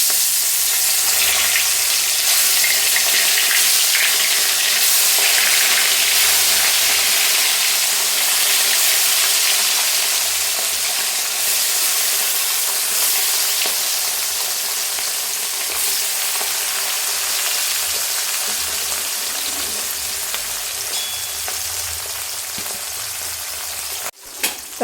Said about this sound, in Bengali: এবার এতে আমি নুন হলুদ মাখিয়ে রাখা মাছগুলো ভেজে নেব একে একে করে।